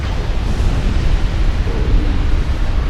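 Rumbling, noisy explosions from torpedo hits on a warship in the naval game Ultimate Admiral Dreadnoughts. They make a dense, continuous low roar, loud and unbroken, with no talk.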